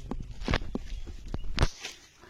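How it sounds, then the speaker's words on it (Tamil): Hollow thumps from knocking by hand on a ripe jackfruit in a tribal forest village, several dull taps spaced irregularly, close by with faint outdoor background. "தொப்பு தொப்புன்னு சவுண்ட் வர்றது வந்து பழம்."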